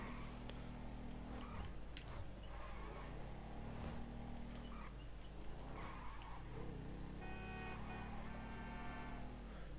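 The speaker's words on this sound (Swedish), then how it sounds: "Nikolaj kör runt med sin motorcykel" In GTA V a motorcycle engine rises and falls through repeated rev swells while riding, with tire squeals and game noise, all under continuous engine drone.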